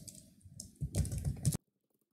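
Keys clack on a computer keyboard as C program code is typed, a quiet patter that thickens into a denser, louder burst of keystrokes before stopping abruptly into silence.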